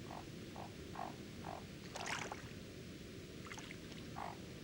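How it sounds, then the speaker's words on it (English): A male frog croaks repeatedly at a mating pond, a series of short, snore-like calls in a steady rhythm over faint ambient noise. "his croaks attract a female to the pond"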